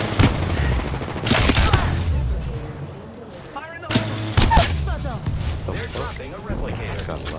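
Video game gunfire erupts in rapid bursts of shots and booms, loud and close, with combat voices calling out over the firefight.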